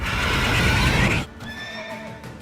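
A horse in The Witcher 3 lets out a loud, close neigh lasting about a second, followed by a quieter whinnying tail and soft movement.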